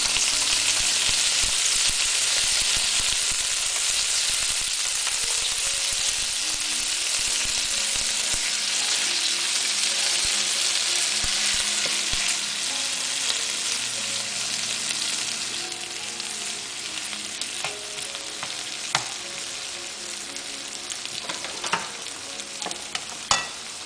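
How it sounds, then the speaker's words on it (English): Chicken and vegetables sauté in pasta sauce in a pan, giving a steady, loud sizzle with occasional stirring clicks and scrapes toward the end. "The next step from here is to saute our chicken and vegetables with some pasta sauce for taste."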